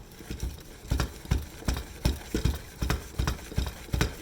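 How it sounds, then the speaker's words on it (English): A plunger pressed repeatedly into a Pampered Chef brownie pan of brownie batter, giving about a dozen soft, evenly spaced thumps in a steady rhythm, close up, with no talking. "So I'm just gonna put the plunger right back on, give it a few more pumps."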